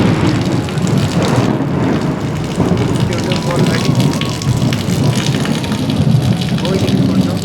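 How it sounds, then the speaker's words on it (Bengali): Heavy rain pours down steadily on a partly sunny day, making a dense, continuous rushing hiss with no break. "আর বৃষ্টিটা এখনো হচ্ছে কিন্তু ভালো জোরে"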